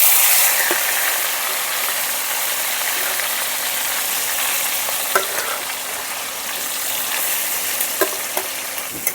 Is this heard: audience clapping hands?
no